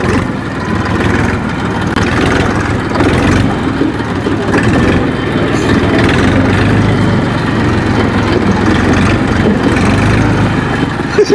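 Tractor engine running steadily in a rural village setting, a loud continuous low rumble with rattling, sustained throughout without a break.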